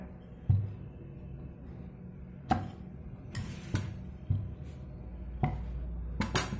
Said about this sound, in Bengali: আমি এখানে কুকি কাটার ব্যবহার করছি।